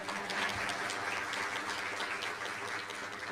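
An audience at a school district board meeting gives a short burst of applause. The clapping is steady and fairly faint, with a slightly distant, roomy quality.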